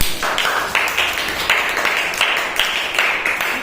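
A class of young schoolchildren claps together in a classroom, sharp slaps arriving in short rhythmic bursts, moderately loud and close.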